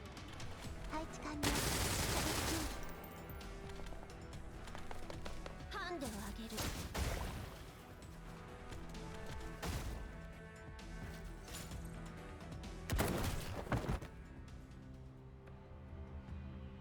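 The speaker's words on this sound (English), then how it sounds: "As the final gunshot rings out, the last of the defense robots blows up, collapsing into a pile of junk parts." Gunfire and exploding robots in the video game GFL2: Exilium, with repeated bursts of shots, crashes and blasts in uneven clusters under a continuous music bed, moderately loud throughout.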